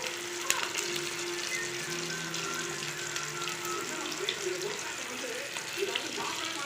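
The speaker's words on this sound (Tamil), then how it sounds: "ஃப்ரை ஆகட்டும்." Fish frying in a pan gives off a steady, faint sizzle and crackle with light popping throughout, while someone talks quietly over it.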